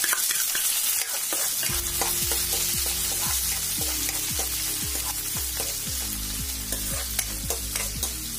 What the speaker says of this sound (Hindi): और प्याज को भी अच्छे से फ्राई कर लेना है।